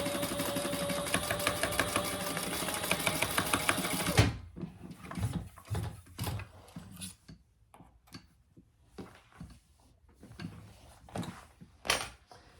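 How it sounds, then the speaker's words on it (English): A sewing machine basting fabric panels for a shoulder bag runs in a steady, close, rapid mechanical whir for about four seconds, then stops, leaving scattered handling clicks and taps. "we're basting those so we don't have to worry about them moving on us"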